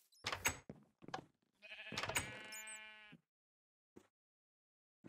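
A Minecraft sheep bleats loudly twice in a row, a long wavering cry, followed by a couple of faint clicks in silence.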